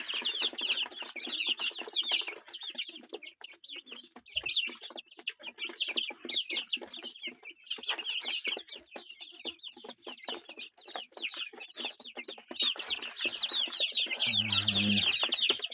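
Backyard chickens and young roosters, some hatched at home and some bought, cluck and chirp continuously at moderate distance, with overlapping busy calls throughout and a louder low burst near the end.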